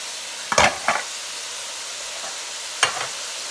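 Colorful mixed vegetables cooking in a pan for a stir fry, a faint steady sizzle punctuated by a few brief scraping stirs and clatters, with no talking.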